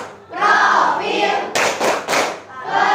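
Schoolchildren in an Indonesian classroom perform a rhythmic clapping cheer, with a few sharp, loud group claps set against voices chanting along.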